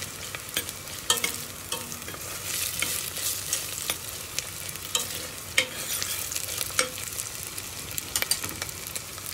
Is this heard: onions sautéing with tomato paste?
yes